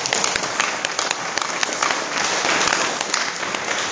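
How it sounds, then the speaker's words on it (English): Applause from a lecture audience on global warming, steady dense clapping throughout, moderately loud and continuous with no talk over it. "Give him a round of applause."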